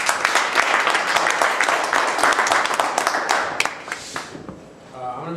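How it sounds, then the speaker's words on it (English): Loud, dense audience applause at a tech meetup, with many overlapping claps and some cheering that carries on for several seconds and then tapers off near the end. "Another round of applause."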